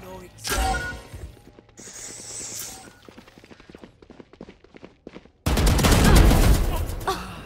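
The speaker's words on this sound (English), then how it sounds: "Those were deep land shots." Gunshots from the video game Valorant ring out in bursts: a sharp volley early, a sequence of rapid clicking shots and footsteps in the middle, then a loud sustained barrage to close.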